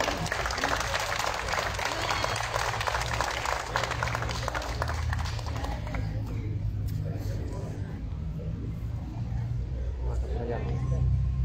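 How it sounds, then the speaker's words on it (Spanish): Applause from an audience at a school civic ceremony, a dense wash of clapping that fades after several seconds into crowd murmur with voices underneath. "Así que los recibimos con un fuerte aplauso."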